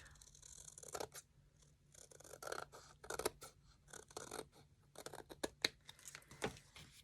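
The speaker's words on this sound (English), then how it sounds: "I see I've got a little extra here, so I'm just going to trim that off." Scissors trimming excess card paper from a handmade greeting card, a run of quiet, close snips and paper rustles spread unevenly, with no talking.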